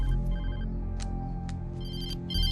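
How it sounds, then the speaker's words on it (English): A telephone rings in the horror video game Alan Wake, a steady electronic ringtone pulsing over a low hum of background game ambience, moderately loud with no talking. "Alan is however saved with a phone call, but it's one he was not expecting."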